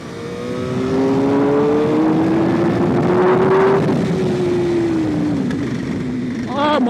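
A track motorcycle ridden hard by a racer, its engine howling loud and close with rising pitch through the gears, then a rough downshift near the end that catches and crackles.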